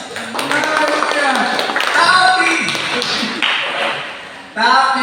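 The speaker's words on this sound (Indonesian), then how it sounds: "Tepuk tangannya keras" A church congregation claps in a steady rhythm during a worship service, the clapping running throughout beneath a loud voice, with a fresh burst near the end.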